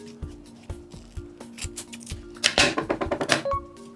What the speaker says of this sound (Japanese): こう切って、あとはハサミで切っていくと